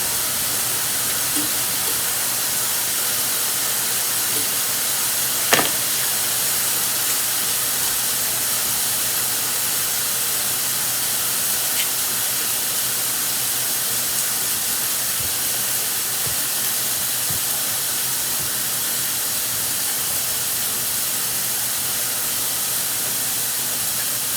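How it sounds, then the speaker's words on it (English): Steady, dense sizzling hiss of food frying in a pan, continuous and unchanging throughout, with one faint click partway through. "I just put it on the stove and it started sizzling up real fast."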